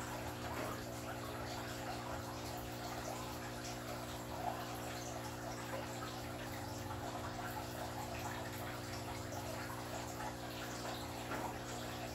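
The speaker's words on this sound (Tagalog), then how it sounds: "i-continue lang yung running water para malinis parati yung tubig" Water runs continuously into an African catfish fingerling breeding tank, a faint, steady trickle and wash under a constant low pump hum.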